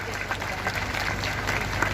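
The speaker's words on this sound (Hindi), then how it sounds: "एक बार आप सभी जोरदार तालियों से इनका मान सम्मान कीजिए, इनका स्वागत कीजिए।" A crowd at a farmers' gathering near the Khuian Malkana toll plaza claps in sustained, dense applause that stays even and loud from start to finish.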